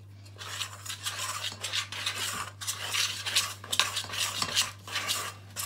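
A spoon scrapes and knocks around a bowl while stirring dough mixture for mini naan bread, rhythmic scraping strokes with clinks against the bowl, close and clear with no talk.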